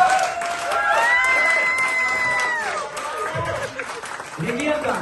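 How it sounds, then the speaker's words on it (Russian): An audience at a birthday celebration in Brooklyn, New York, bursts into applause and cheers, a dense clapping crowd heard nearby with a voice calling out over it. "Элеонора Булычева, ваши аплодисменты"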